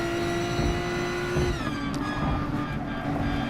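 A race car in a racing video game pulls hard through the gears, its engine note climbing as it upshifts into fourth, with a brief tyre-like squeal, loud and close with no talk.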